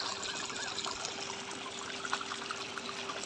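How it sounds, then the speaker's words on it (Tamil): Irrigation water flows through village fields at night, a soft, steady trickle and gurgle with faint splashes over a constant low hum, no one speaking. "நைட்டு ஃபுல்லாக தண்ணி ஓடிக்கிட்டுருக்கு கிராமத்தில்."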